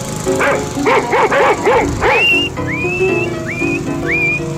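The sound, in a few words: dog barking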